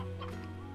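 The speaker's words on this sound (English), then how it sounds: "I hear more chickens, but I think I got enough." A brief, soft clucking from chickens in the video game Slime Rancher, faint over a steady low hum.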